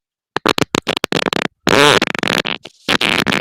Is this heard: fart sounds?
yes